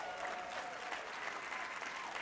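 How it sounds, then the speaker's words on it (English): Audience applause at a union leadership conference: a continuous wash of clapping from a crowd in a hall, fairly quiet and even throughout. "So one more last round of applause,"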